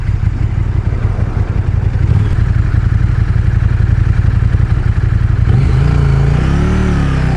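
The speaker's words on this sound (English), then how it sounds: "A very smooth V-twin, but enough pulse that you know that that engine is definitely got a certain character" A KTM 1290 Super Duke GT V-twin motorcycle engine runs loud and close with a steady throbbing pulse, then its pitch rises as it revs up.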